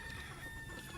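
Farm chickens cluck and a rooster crows faintly at a distance in a single brief, quiet burst.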